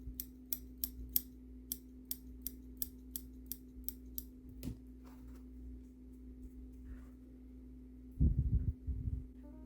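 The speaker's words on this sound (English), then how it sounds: "So I'm just continuing to do a little trimming, just neatening up." Scissors snip a doll's hair in a quick series of crisp, close cuts, then slow to a few sparse snips with a faint steady hum underneath and a brief soft rustle near the end.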